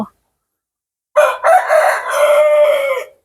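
A rooster on a rural Isan farm crows once, loud and close, a drawn-out call of about two seconds after a moment of silence.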